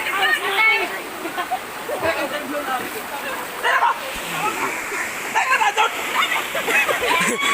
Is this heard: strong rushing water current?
yes